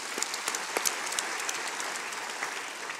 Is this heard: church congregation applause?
yes